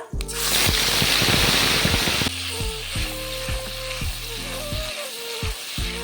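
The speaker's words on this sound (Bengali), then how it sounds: "পেঁয়াজটাকে খুব ভালোভাবে ভেজে নিতে হবে" Onion paste drops into a pan of hot oil already holding fried dry red chilli and white cumin for a chicken roast, bursting into a loud sizzle that settles into a softer, steady fry with spoon scrapes and stirring clinks.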